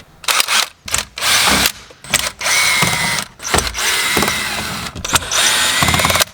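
A power drill unfastens screws from the dash monitor of a wrecked Hellcat Charger, with several loud whirring bursts separated by short pauses, close up and with no talking.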